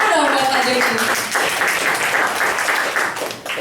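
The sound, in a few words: audience applause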